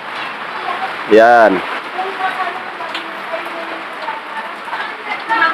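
Steady rain falls outdoors at a motorcycle shop, a dense even hiss throughout, with someone speaking briefly near the start over it.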